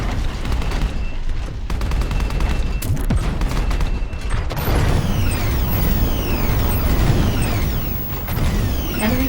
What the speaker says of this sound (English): Left shoulder, grenade launcher.